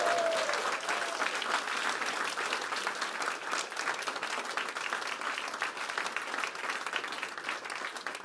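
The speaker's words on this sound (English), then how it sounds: "Don't clap me yet." Sustained audience applause at a speech launching a social care reform conversation, steady dense clapping filling the whole stretch at even loudness, with no talk over it.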